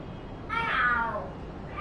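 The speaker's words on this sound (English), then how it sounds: "The hell are their cats fighting? What are they screaming for?" Video game cat in Lost Judgment: one drawn-out, rising and falling yowl, loud and close, standing alone over quiet background ambience, with a faint start of another cry at the end.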